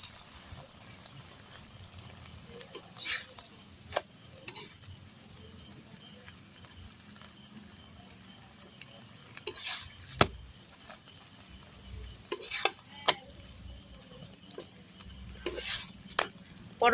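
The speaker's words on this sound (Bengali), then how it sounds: "এবার উল্টে পাল্টে আমি পরোটাটা ভেজে নেব।" A semolina paratha fries in white oil in a pan, with a faint steady sizzle under scattered metallic clinks and scrapes of the utensil as it is flipped.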